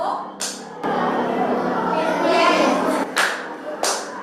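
A teacher claps hands in a few sharp, separate claps spaced apart, close and loud, with a voice talking between them.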